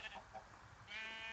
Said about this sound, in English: Ooh, a black sheep.